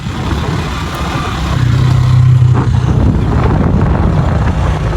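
A motorcycle rides along a road on a trip to an animal market for Eid, its engine a steady low drone that swells slightly midway, with constant road and wind noise and no talking.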